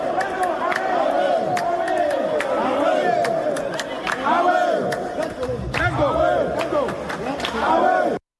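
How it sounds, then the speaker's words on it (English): Teachers and National Council members of the Ghana National Association of Teachers boo a deputy education minister at a meeting, a loud, sustained crowd roar of jeering voices with scattered shouts throughout. "Some teachers and members of the National Council of the Ghana National Association of Teachers booing the Deputy Minister for Education, Professor Kingsley Nyako"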